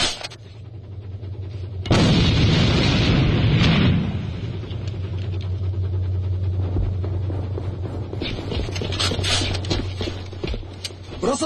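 A grenade blast in the online shooter Alliance of Valiant Arms gives a sudden loud boom, then a rumbling decay over a steady low engine-like drone, followed by scattered gunfire cracks and faint voices.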